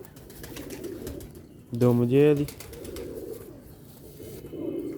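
Sialkoti black-faced pigeons give a single throaty coo up close, a short rolling call rising above a low murmur of talk and background noise.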